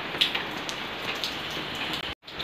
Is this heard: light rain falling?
yes